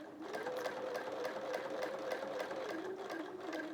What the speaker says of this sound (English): I know that I can confidently stitch back over that previous row of stitching.